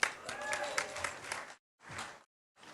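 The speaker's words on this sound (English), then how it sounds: "Let's all give her a round of applause." Brief applause from a city event audience for a contest winner, about a second and a half of scattered clapping broken off by short gaps of silence.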